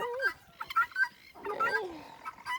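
Domestic fowl on a farm with guard dogs cluck close by in short, bright calls: one near the start and a cluster in the second half, with brief pauses between.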